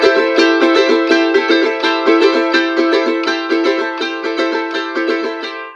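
A charango strums a huayno rhythm with the cuarentena delay, its bright, dense multi-string chords repeating in a steady, slightly lilting pattern, loud and close with no voices.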